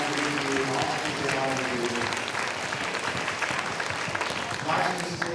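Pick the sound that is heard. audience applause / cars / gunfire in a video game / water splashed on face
audience applause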